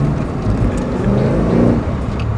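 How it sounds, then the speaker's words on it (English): A car approaches and passes nearby on a road, its steady engine and tyre rumble filling the whole moment at close range, loud and continuous. "there's a car coming!"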